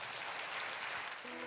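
Church congregation applauding during a sermon, a dense, continuous roar of many hands clapping, fairly distant and steady across the short stretch, with a faint tone entering near the end.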